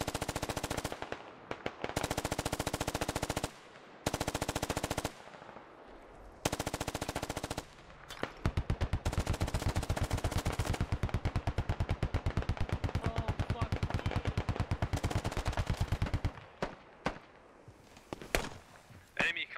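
Heavy automatic gunfire in the military shooter Squad, long sustained bursts of rapid shots broken by short pauses, loud and close, with a voice speaking faintly under the firing.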